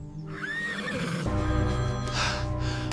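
A horse neighs loudly in distress while being attacked by a giant snake, a rising whinny followed by a longer shrill cry with harsh, strained overtones.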